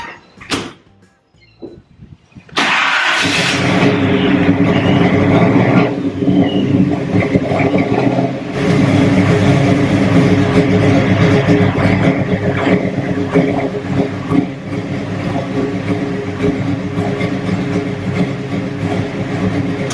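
After a brief click and a pause, the engine of a 1970 Mustang Fastback muscle car cranks and roars to life, then runs loud and rough with steady revving throughout.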